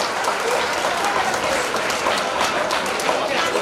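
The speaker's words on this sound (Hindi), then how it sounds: "इसके लिए जोरदार ताली बजाए बच्चों" Schoolchildren applaud at a Republic Day school event, a steady, dense wash of clapping from a crowd that holds evenly at moderate loudness.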